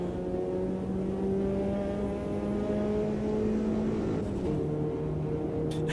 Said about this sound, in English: If you listen as I cross the line now, changing from 4th to 5th,